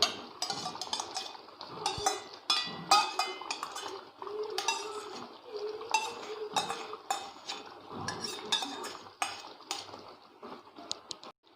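A spoon stirs cream into paneer butter masala gravy in a metal pan, with repeated close clinks and scrapes against the pan in an irregular rhythm and no voices.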